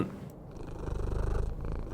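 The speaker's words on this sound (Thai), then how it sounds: "เจอแมวในเกมไหนมันอดเล่นด้วยไม่ได้เลยนะ" A cat in the Midnight Postman video game purrs softly and steadily, a low rhythmic rumble that swells slightly toward the middle, heard alone without talk.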